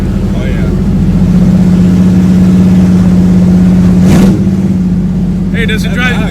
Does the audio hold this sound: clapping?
no